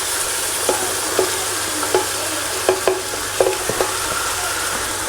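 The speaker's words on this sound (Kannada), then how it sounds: "ಈಗ ಕ್ಯಾಪ್ಸಿಕಮ್ಮನ್ನು ಹಾಕೊಳ್ಳಿ" Capsicum being stirred into frying onions for chicken chilli, a steady sizzle under a spatula scraping the pan in several sharp, irregular strokes, close and fairly loud with no talking.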